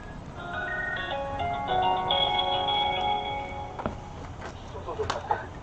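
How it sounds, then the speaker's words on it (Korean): A phone ringback tone sounds as an outgoing call is placed, a steady repeating electronic tone held at moderate level over room noise, followed by a few brief knocks and clicks near the end. "전화를 걸겠습니다."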